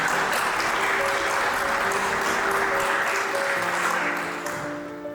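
An audience at a university anniversary ceremony applauds teachers being honoured, giving a loud, sustained burst of clapping from many hands that slowly fades toward the end, with faint background tones.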